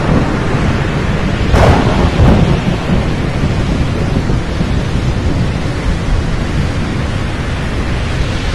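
A thunderstorm with heavy, steady rain hissing loudly throughout, and a sharp thunder crack early on that rumbles and fades back into the downpour.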